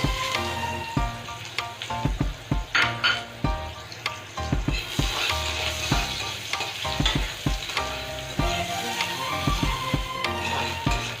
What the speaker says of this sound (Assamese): তেলখিনি গৰমে হৈ আছে, মই ইয়াত পিঁয়াজ দি দিছোঁ।